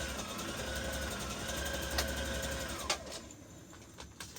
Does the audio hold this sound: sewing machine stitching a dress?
yes